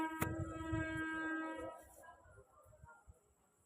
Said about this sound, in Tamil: ட்ரெயின் வருதுடி செல்லம் பக்கத்தில் சவுண்ட் கேட்குதா